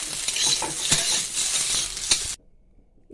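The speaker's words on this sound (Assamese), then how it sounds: "আলুখিনি এনেকৈ ফ্ৰাই কৰি লৈছোঁ।" Potatoes sizzle and fry in a pan with a steady bright crackle and occasional stirring scrapes, close and loud, before the sound drops away abruptly near the end.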